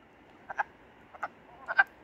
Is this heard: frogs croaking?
yes